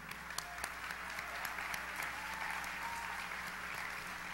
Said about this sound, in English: please give a round of applause for the conference services and special events staff here at Atlantis